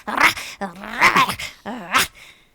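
A person imitates a dog barking viciously, a close, loud run of snarling, growling barks and yips in three quick bursts.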